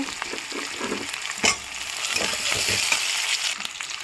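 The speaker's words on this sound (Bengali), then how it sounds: "এখানে আলুগুলো ভেজে নেব" Potatoes frying in a pan for a kohlrabi and duck egg curry, a steady sizzle with a few scrapes and knocks from stirring, one sharper clatter near the middle, and no talking.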